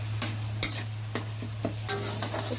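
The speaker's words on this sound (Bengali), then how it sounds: "এবার দেবো এই আদা রসুনের পেস্ট ভালো করে কষাতে হবে" Ginger garlic paste frying in oil, stirred with a utensil: a steady sizzle with regular sharp scrapes and taps against the pan, over a constant low hum.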